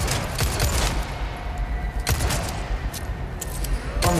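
Gunfire in the video game Resident Evil 4 Remake, a rapid string of sharp shots over a dense, loud, continuous rumble of game ambience.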